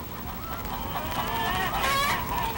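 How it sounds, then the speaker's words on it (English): Several chickens cluck and murmur together in a busy barnyard chorus, fairly close, with overlapping calls and no talking. "This barnyard has lots of chickens, speckled ones and light brown ones and even red ones."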